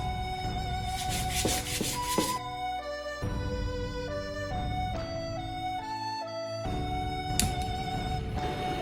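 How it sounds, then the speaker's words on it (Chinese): Bamboo tissue box being sanded by hand, a continuous close scratchy rubbing with repeated strokes, loud and unaccompanied by speech. "现在我们用手进行第2次打磨。"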